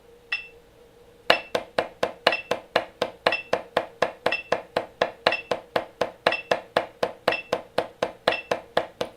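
Single drum strokes play as a steady, evenly spaced run of sharp, close hits, four to each metronome beat, following a faint tick and a brief pause at the start.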